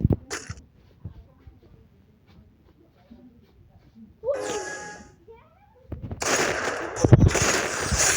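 Gunfire in a shooting video game, with a sharp shot at the start, scattered bursts in the middle and a loud dense volley near the end, heard among quiet game sounds.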